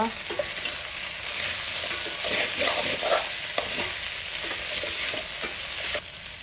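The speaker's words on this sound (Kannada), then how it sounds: "ಇದು ಸ್ವಲ್ಪ ಫ್ರೈ ಆಗಲಿಕ್ಕೆ ಬಿಡುವ." Okra stir-fries in a pan for a coastal-style bendekayi palya. A continuous crackling sizzle runs under repeated scraping stirs, close and fairly loud, with no speech.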